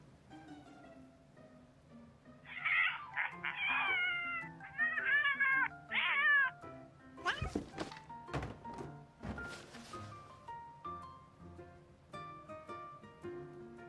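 A two-month-old kitten mews several times in short, high, wavering calls over a low indoor hum, followed by a series of thumps and knocks.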